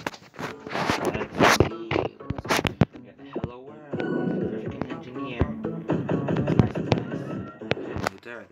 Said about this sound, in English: And more fireworks.